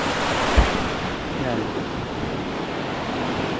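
A wide river runs far below a hiking trail on Mt. Batulao, a steady broadband rush blended with wind buffeting the microphone, while a voice speaks one brief word.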